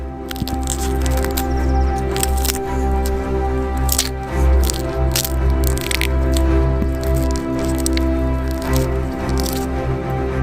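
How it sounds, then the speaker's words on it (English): Layers of tough outer shell are torn and peeled from edible forest sprouts in a snowy forest, giving repeated close crackling snaps and squishy tearing over a steady low background hum, with no talk. "We remove the shell from them layer by layer."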